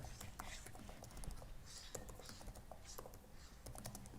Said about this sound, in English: Now let me type it here.